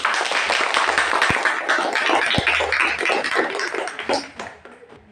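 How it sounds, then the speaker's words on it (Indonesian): Students clapping together in a classroom, a dense burst of many hands that carries on steadily for several seconds, then thins and fades out near the end. "Bagus sekali, tepuk tangan."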